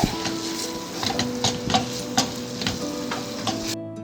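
Chicken pieces sizzle steadily in a hot pan for stuffed crepes, a continuous frying hiss broken by soft stirring scrapes and small ticks, close and alone with no voices, cutting off abruptly near the end.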